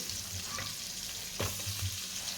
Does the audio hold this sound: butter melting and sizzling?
yes